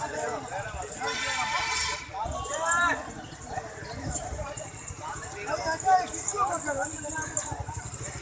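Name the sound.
goats bleating at a Bakra Eid livestock market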